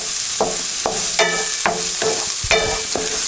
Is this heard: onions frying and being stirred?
yes